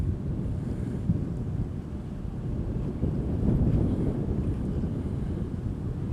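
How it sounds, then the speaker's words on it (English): Steady outdoor wind buffeting a microphone during the launch of a Skydio 2 drone, a continuous low rushing roar that swells slightly midway, fairly loud and close with no voices. "Got a little bit of wind blowing from this"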